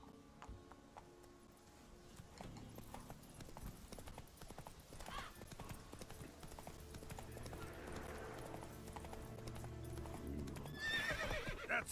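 Roach, Geralt's horse in The Witcher 3, gallops with a steady clip-clop of hooves and a neigh, getting louder toward the end over quiet game ambience.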